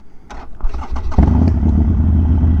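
A motorcycle engine with a 1250 Hammer Performance kit cranks briefly, catches and settles into a loud, rumbling idle close by.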